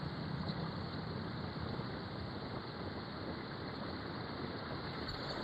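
Strong wind blows outdoors in a constant, dense roar that buffets the microphone, with no pauses or voices for the whole stretch.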